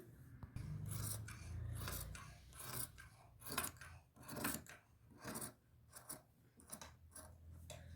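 Scissors cut through salwar fabric for a 38-inch salwar made from two and a half metres of cloth, with repeated close, crisp snips and rasping slides of the blades in an irregular rhythm.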